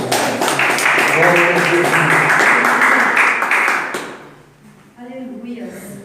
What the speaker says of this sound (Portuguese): Então não pode se assentar e bater palmas